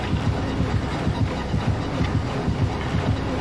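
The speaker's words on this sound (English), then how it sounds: "That heart beating." A heavy, rapid heartbeat thumps steadily throughout in the survival horror game Dead by Daylight, a dense low pounding rhythm filling the whole stretch.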